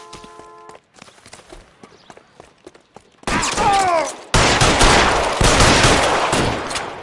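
Gunfire erupts in the L.A. Noire video game: scattered footsteps and light taps first, then loud sustained bursts of rapid shots and rattling fire, close and harsh.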